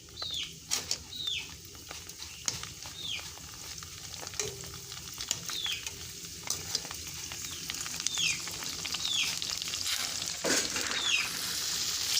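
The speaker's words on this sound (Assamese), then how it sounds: "তেলখিনি গৰম হ'লে এতিয়া দি দিম ফুচকা" Puchka (pani puri) dough frying in hot oil, giving a steady close sizzle with faint bird chirps repeating in the background and no talk.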